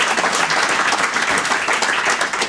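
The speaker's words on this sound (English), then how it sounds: "let's give them a round of applause right now." Audience applause at a Hall of Fame induction ceremony, a steady dense wash of many hands clapping at once, sustained and fairly loud throughout with no talk over it.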